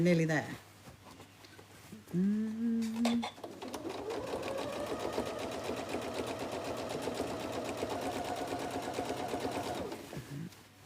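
A domestic sewing machine stitches a tote bag, running in a steady, close whirring rhythm for most of the clip after someone talks briefly at the start.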